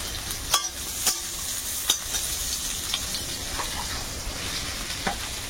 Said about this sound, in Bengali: পেঁয়াজগুলোকে একটু হালকা ভাজবো, হালকা একটু নরম হলেই এবারে এর মধ্যে দেবো আলু